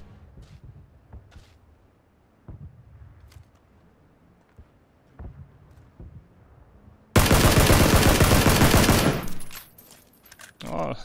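Gunfire in PUBG: a few scattered single shots, then a loud sustained automatic burst of about two seconds, with someone talking quietly through the quieter stretches.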